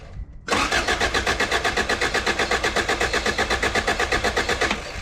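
A B-series engine swapped into an 88-91 Honda Civic cranks over loudly after a brief quiet start, a steady rapid chugging rhythm of the starter turning the motor without catching, close and alone.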